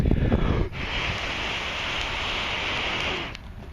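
Steady outdoor wind blows across the microphone as a broad, constant rush for several seconds, with a brief louder gust at the start.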